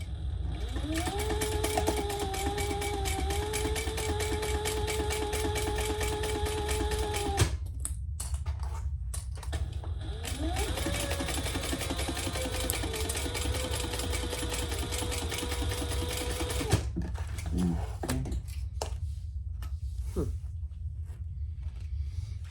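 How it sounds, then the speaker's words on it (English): A sewing machine stitches vinyl front panels together along a bottom seam, running close and steady in two long bursts with a brief stop between them, its whirring motor pitch rising and settling. "we're going to sew those together across the bottom at the seam allowance in the pattern"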